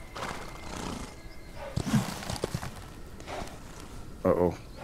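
In the Western video game Outlaws of the Old West, a horse gives a short whinny near the end, after scattered hoof thuds and footsteps. A low voice murmurs underneath.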